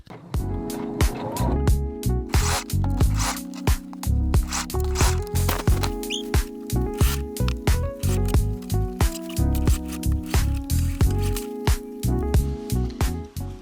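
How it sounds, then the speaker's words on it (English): Rapid mechanical stitching runs in bursts with short pauses, a sewing machine whirring steadily at close range while sewing a zipper into a dress. "I am putting in the zipper now."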